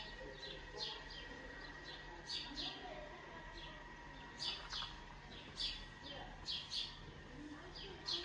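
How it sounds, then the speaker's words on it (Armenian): Small birds chirp outside near a freshly cleaned home balcony, with short bright calls repeating every second or two at a moderate distance over a faint low hum. "ես ինչ լավ է լսվում, ծիտիկների ծլվլոցը"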